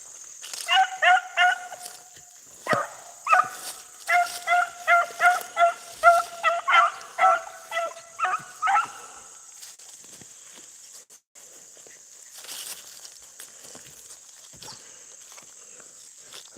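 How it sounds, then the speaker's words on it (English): Beagle pups, including a young female, bark and yip in quick repeated bursts while running a rabbit through brush, fairly close. The barking comes in volleys over several seconds, then fades into quieter rustling outdoor ambience. "that Willow pup's got a real bark"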